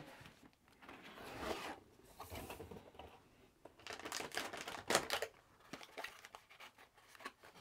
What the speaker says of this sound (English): So let's get it out of the box.